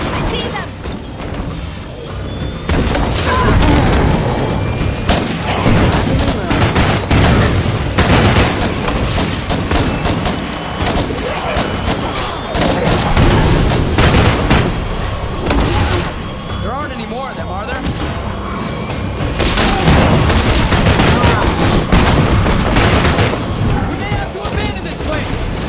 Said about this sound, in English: I will be using the Independence DLC Pyro Launcher and Starshank Launcher to pulverize enemies